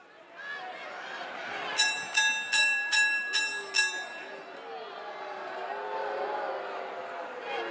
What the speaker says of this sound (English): The bell has sounded, and Ken Patera got back into the ring